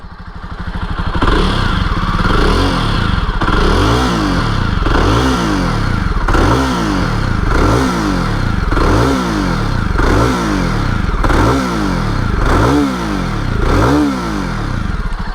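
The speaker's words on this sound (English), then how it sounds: "So it's a sweet sounding single cylinder motorcycle." A 2021 Jawa Perak single-cylinder bobber motorcycle thumps loudly nearby, its exhaust rising in repeated revs that surge and drop in a steady rhythm, with no talking.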